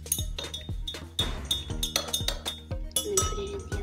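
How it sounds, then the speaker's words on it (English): A spatula stirs colored liquid in a glass, giving a quick run of bright clinks and taps against the glass, fairly close and clear, repeating irregularly through the clip. "We're going to stir it."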